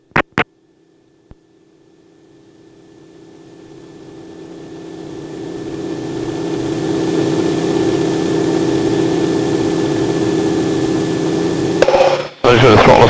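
Harvard trainer aircraft engine at power in flight, a loud droning radial roar building steadily from near silence and holding strong, with a sharp cut and shift near the end.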